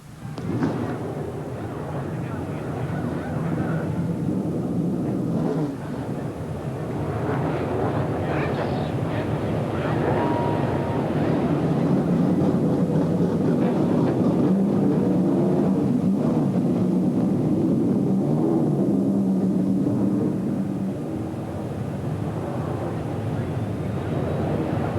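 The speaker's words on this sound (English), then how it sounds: "gentlemen, start your engines" Race car engines of the 1994 ASA AC-Delco Challenge Series start and run at Toledo Speedway, a loud, sustained low rumbling roar that swells and holds through the clip.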